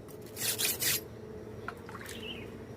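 Knife blade sharpened on a stone, tilted almost flat, giving a few close raspy rubbing strokes in the first second followed by fainter scraping.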